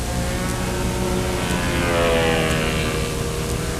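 Model airplane engine buzzing steadily during a takeoff on a windy day at a national competition, a loud continuous drone mixed with wind rumble, rising slightly midway.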